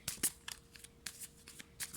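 Tarot cards being shuffled in several quick riffling bursts separated by short pauses, close and fairly quiet, with no talking.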